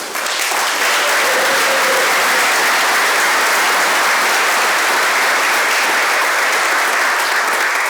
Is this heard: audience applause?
yes